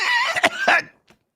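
A man coughs after coffee goes down the wrong way: two or three harsh, close coughs in quick succession, then a short trailing rasp.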